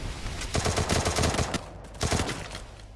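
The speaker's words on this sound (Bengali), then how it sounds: "এবারে একটি হেডশট ছিল" Rapid gunfire in a shooter video game, a close burst of loud cracking shots followed by a second short volley after a brief pause.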